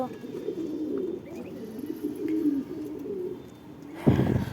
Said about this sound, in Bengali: আমি ফাঁকে দিয়ে আবার আমার কবুতরগুলোকে খাবার দিয়ে নিচ্ছি